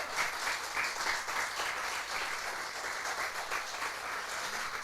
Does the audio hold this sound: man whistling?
no